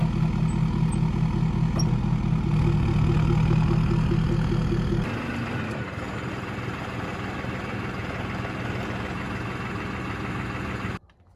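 A tractor engine running while cutting hay, a steady loud diesel drone with a low throbbing rhythm that drops to a lighter idle partway through before cutting off at the end.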